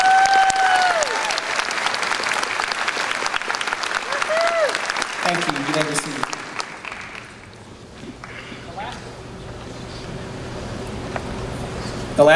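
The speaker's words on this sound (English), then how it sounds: "a big round of applause for our District Teacher of the Year" A large crowd claps loudly for the District Teacher of the Year at the Owasso High School graduation, with a few rising whistles, before the applause fades into a quieter room where a voice is heard.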